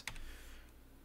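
A single computer keyboard key press during audio editing in Adobe Audition, one sharp close click followed by a faint second tap, quiet and alone.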